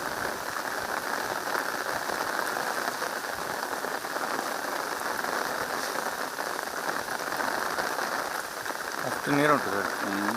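Heavy monsoon rain pouring in Madikeri, Kodagu, a dense steady hiss of drops on the ground, close and unbroken, with a brief voice near the end.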